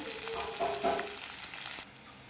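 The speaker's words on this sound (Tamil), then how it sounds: "பெரிய வெங்காயம் இது நல்லா செவந்து வறுத்து வறுக்கலாம்" Large onions fry in hot oil until reddish brown for a village-style coconut curry, giving a steady, close sizzle with a few soft stirring scrapes before the frying noise drops lower near the end.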